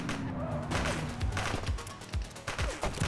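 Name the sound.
gunfire from a suspect in video game The Precinct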